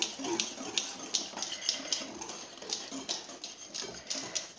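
Lemon cake batter with sugar being stirred in a bowl, a soft, steady run of scraping and light clinking strokes at close range, repeating in an uneven rhythm with no talking.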